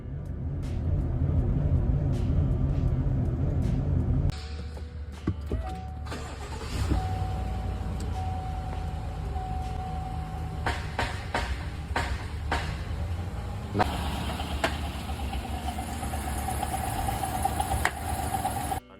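A Ram 1500 pickup truck climbing a hill: a steady engine drone with a rhythmic pulsing, then shifting to a harsher tone with a whining note and scattered rattling knocks, continuous and fairly close.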